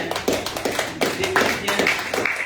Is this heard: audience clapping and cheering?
yes